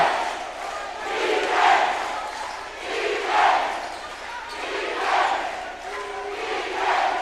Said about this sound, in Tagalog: Look at that crowd, partner.